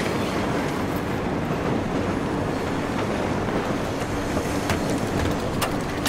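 A train rolling along in Battlefield 3, a steady low rumble with wind-like roar and occasional faint clicks, continuous and fairly distant with no talk.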